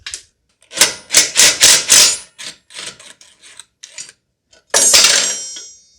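Bolts on the belt guard of a Cub Cadet LTX1045 riding mower deck are worked loose with a ratchet, giving bursts of rapid metallic clicking and rasping in short spurts separated by pauses, close and loud.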